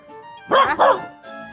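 A dog gives two quick close barks with a whimpery edge, followed by a faint trailing whine.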